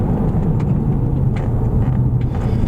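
A car rolls along with a steady, loud low road rumble while braking on brand-new front brake discs after a front suspension upgrade, with no distinct squeal standing out.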